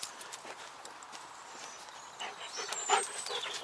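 A dog pants rapidly and close by outdoors, with quick rhythmic breaths. Footstep-like clopping and a few high chirps are mixed in.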